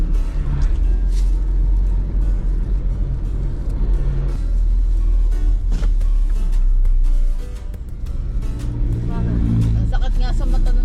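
Inside a moving car on a road trip to Talisay, Batangas, a constant low engine and road rumble fills the cabin, with passing-traffic swells and some rustling and clinking nearby.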